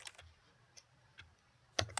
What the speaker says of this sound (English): Apparently this file cabinet is also a keyboard.